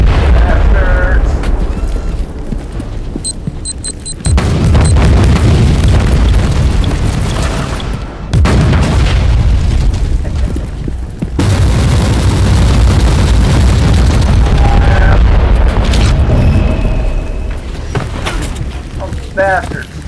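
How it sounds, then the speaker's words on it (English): A Marauder bomber bombardment in Warhammer 40,000: Inquisitor – Martyr sets off loud, sustained explosions. Deep booms arrive in waves with rumbling debris for about twenty seconds, under game voices and effects. "The Marauder bombers are launching a second wave of bombardments."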